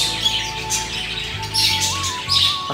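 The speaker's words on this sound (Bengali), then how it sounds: "আর বাইরে থেকেই কিচিরমিচির শব্দ শুনতে পাচ্ছি আমরা পাখির।" Small caged birds such as budgerigars and cockatoos chirp and tweet inside a park aviary, bright overlapping calls in quick bursts that are close and clear with no talking.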